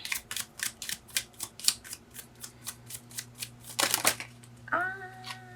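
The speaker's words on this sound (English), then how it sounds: "I'm gonna shuffle one more time." Tarot cards are shuffled in quick, rhythmic riffles, about a dozen crisp bursts, followed by a louder flutter and a brief ringing tone.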